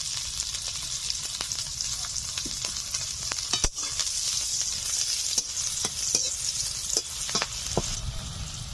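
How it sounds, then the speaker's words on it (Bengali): Chopped onions fry in hot oil for a rohu fish kalia, giving a steady close sizzle with scattered crackles and occasional utensil taps throughout. "এখন আমি দিয়ে দিচ্ছি কুচি করে রাখা পেঁয়াজ"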